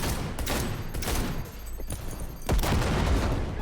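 Gunshots from the Cyberpunk 2077 shooter ring out in sharp, loud bursts, several close cracks in quick succession with a brief lull before another heavy volley near the end.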